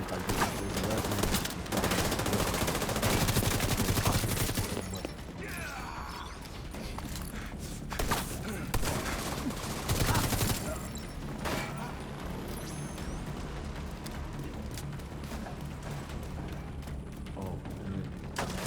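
Video game weapon fire in a shooter, bursts of rapid gunshots and impacts in repeated volleys at moderate loudness, with mechanical clatter between them.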